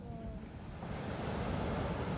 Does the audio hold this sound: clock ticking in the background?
no